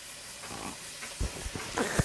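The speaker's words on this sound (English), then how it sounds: "So we've got massive steam leak there, which again doesn't surprise me." Swan M2 model steam engine running poorly with a massive steam leak, giving a continuous hiss broken by soft chuffs and puffs that grow more frequent toward the end.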